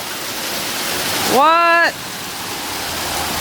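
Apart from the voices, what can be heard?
hailstorm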